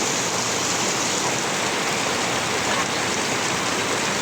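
Heavy rain pours down steadily in a flood-prone area, a loud, dense, unbroken hiss that fills the whole stretch with no voices.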